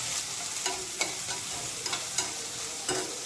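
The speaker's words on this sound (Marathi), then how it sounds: "दोन मध्यम आकाराचे कांदे बारीक करून टाकले व्यवस्थित मिक्स करून घ्यायचे" Two medium-sized, finely chopped onions frying for kanda batata pohe, stirred in a hot pan with a steady sizzle and repeated scraping strokes of the spoon, close by and with no talking.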